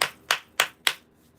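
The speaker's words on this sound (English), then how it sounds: "I'm gonna give it a quick hand clap to clear the energy" Four quick hand claps in an even rhythm, sharp and close, each ending in a short room echo, then silence.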